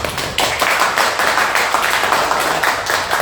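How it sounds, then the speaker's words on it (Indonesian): Several people clap hands in a steady, close burst of sharp, rapid claps that continues throughout the short stretch, with no voices on top. "tepuk tangan buat kita semua"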